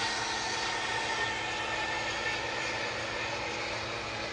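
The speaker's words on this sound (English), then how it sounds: "That is the sound of the zip liner, the zip rider going by right here." A loud, steady whirring roar of a zip line trolley running along its cable overhead at Icy Strait Point, Alaska, continuous and close, with no talking.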